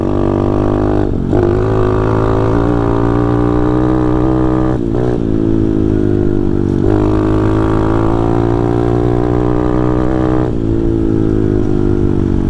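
A pit bike engine revs loud and close, climbing in pitch through the gears with brief dips at each shift before pulling up again.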